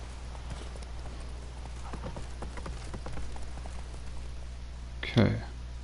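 Horse hooves clip-clop in a steady walking rhythm in the video game The Witcher 3, heard over low background game sound. Near the end a louder single burst cuts in.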